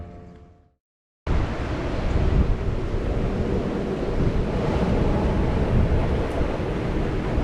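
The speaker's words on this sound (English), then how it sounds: "you know it's windy when it picks the water up, the surface of the water up, and creates clouds" Strong wind roaring over open sea aboard a Gunboat 68 sailing catamaran on an Atlantic crossing, a steady loud rush of gusts and spray after a brief near-silent start, with no voices.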